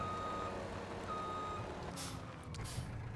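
In the farming game Landwirtschafts-Simulator 17, a vehicle's reversing alarm beeps at a steady rhythm over a continuous engine drone, followed by two sharp hissing bursts of air brakes near the end.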